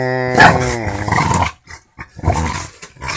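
Puppy growling close up in short rough bursts, one louder snarl near the start followed by broken throaty rumbles and pauses.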